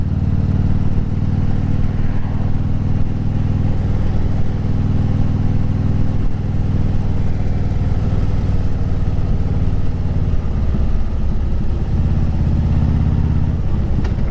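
A 2010 Harley-Davidson Street Glide Ultra rumbles steadily at close range while riding through an S-turn, its deep engine drone holding even with brief gear-change shifts and some wind noise over it.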